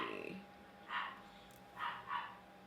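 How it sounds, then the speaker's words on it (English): A dog barks three times at moderate distance, one bark and then a quick pair, in a quiet indoor setting during a knitting podcast, after a brief bit of speech at the start. "Be quiet, noisy dog."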